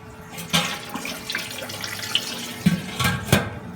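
Tap water runs to fill about 30 liters of brewing water for a homebrewed American Wheat beer, a steady close splashing stream with a few sharper splashes and knocks.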